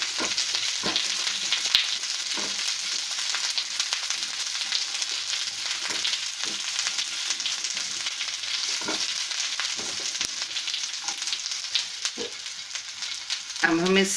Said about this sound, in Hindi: हमें इसे बहुत ज़्यादा नहीं सेकना है, हल्का सा सिर्फ इसका कच्चापन ख़त्म करना है।